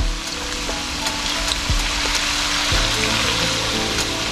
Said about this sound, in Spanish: ya está caliente el aceite. Ahora vamos a agregar la papa, más que con mucho cuidado. La vamos a medio freír.